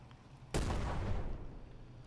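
A single sharp burst of gunfire from a Kampfgruppe wargame video game, sudden and loud, then decaying with a rumbling tail over about a second and a half.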